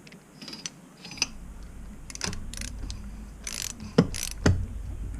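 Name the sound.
wrench loosening the fork dust cap on a Honda CRF150r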